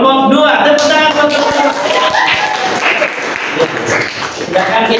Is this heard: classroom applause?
yes